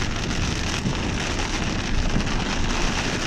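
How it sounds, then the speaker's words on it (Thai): Storm rain falls steadily and hard along a road in Wang Saphung, Loei, Thailand, a dense, unbroken roar of drops with no voices over it. "พบกับบรรยากาศฝนตก ตามลายทางครับ"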